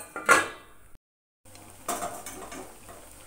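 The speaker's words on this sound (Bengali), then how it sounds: "একটা ঢাকা দিয়ে দিতে হবে।" A metal lid clatters onto a cooking pot of tangra fish curry with potato, bori and aubergine on a full gas flame, a sharp clang and rattle followed by a short silence, then a second softer clink.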